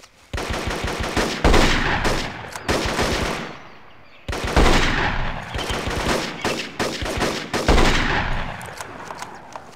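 Rapid bursts of automatic gunfire in the PC jungle-warfare shooter Marine Sharpshooter II: Jungle Warfare, loud and close, in several sustained volleys separated by short pauses.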